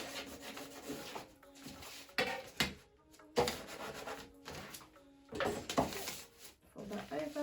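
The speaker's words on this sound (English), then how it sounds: "Fold that over, get that crease in." Wrapping paper is folded over and creased by hand, making repeated close rubbing, scraping swishes in uneven bursts with short pauses between strokes.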